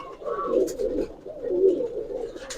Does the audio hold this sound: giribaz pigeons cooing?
yes